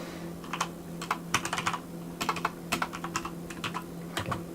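Rapid typing of code on a computer keyboard, a close, crisp run of irregular key clicks in bursts with short pauses, over a steady low electrical hum.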